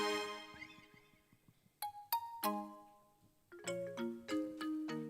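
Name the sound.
phone ringtone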